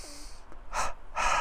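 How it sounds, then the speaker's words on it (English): Double breathing pranayama, with rapid inhales through the nose and rapid exhales through the mouth, heard as close, sharp bursts of breath separated by short pauses, with no talk. "this double breath is a rapid inhale through the nose and a rapid exhale through the mouth"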